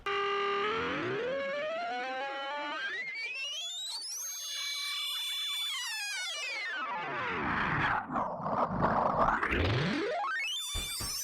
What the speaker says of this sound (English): I was using Complex Pro, which imparts a really distinct smeared granular texture to it